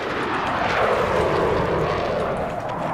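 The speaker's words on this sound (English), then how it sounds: "Enemy helo!" An enemy helicopter in the video game Battlefield 6 gives a steady, loud engine roar with a rotor rumble. The drone holds evenly for the whole moment, with no voices over it.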